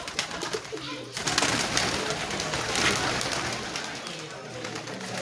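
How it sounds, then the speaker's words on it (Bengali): Pigeons on a rooftop coo softly amid rustling and outdoor noise, with people talking over them throughout. "ছাদের উপরে কতগুলো সুন্দর নাইস কবুতর, সবাই খাচ্ছে।"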